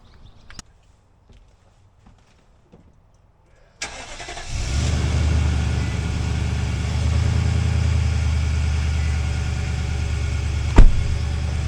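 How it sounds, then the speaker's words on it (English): A pickup truck sits quiet with a few faint clicks, then its engine cranks and starts and settles into a steady, loud idle on a cold morning, warming up close by. "it takes a good 5 minutes to warm the truck up real good"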